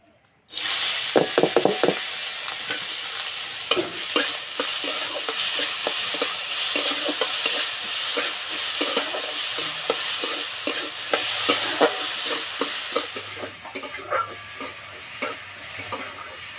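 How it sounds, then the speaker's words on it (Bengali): Soaked moong dal fries in ghee in a kadai (wok), giving a loud, steady sizzle throughout with repeated knocks and scrapes from a spatula stirring against the pan. "এবার ডালটাকে ভেজে নেব। তার জন্য কড়াইয়ে দেবো ঘি।"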